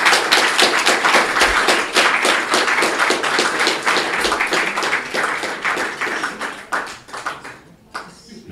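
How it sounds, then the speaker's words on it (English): Applause from the audience after a lecture, made of loud, distinct hand claps that start crisp and near, then thin out and die away into a few scattered claps by the end. "We'll have a big round of applause and then a few questions."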